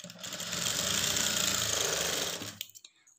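A sewing machine stitching a lined blouse gives a steady, fast mechanical whir for about two and a half seconds, then stops with a couple of light clicks, close and fairly quiet.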